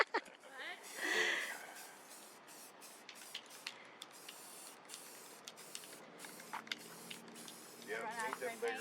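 A paint sprayer hisses in short bursts and longer sweeps during interior condo painting, loud at first and then intermittent, with occasional soft clicks.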